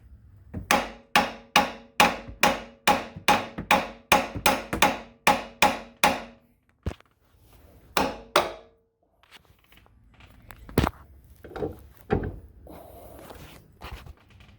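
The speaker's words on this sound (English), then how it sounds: "I like to just use a brass hammer." Rapid, evenly spaced brass hammer blows ring out on a metal part of a 2008 Chevrolet Corvette C6 axle, about a dozen in a row, followed by a few scattered strikes and faint clatter.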